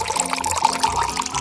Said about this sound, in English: fill the pot with water